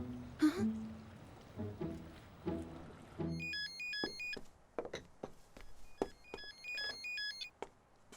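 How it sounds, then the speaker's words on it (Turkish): A telephone rings in repeated electronic bursts, two clear ringing phrases with a pause between, at moderate loudness over quiet background clicks and a brief voice at the start. "Çalıyor."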